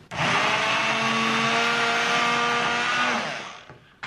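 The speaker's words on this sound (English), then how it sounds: "So, I'm using my hand blender." A hand blender runs steadily for about three seconds, smoothing a food mixture, with a loud, even whirring drone that winds down at the end.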